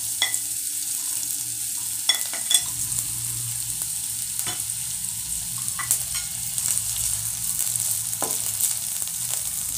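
Ginger and green chilli frying in a pan for mixed vegetable Manchurian, a continuous close sizzle broken by scattered sharp clicks and scrapes of a utensil stirring against the pan.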